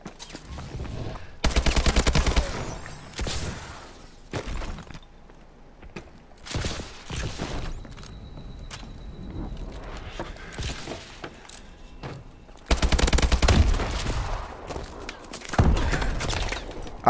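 Rapid-fire bursts from the KO5 gun in Call of Duty: Advanced Warfare multiplayer, loud stuttering volleys repeating in several separate bursts with quieter game ambience and footsteps in the gaps.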